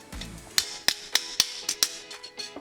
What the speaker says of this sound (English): when you're using a polished hammer, it will polish your metal for you.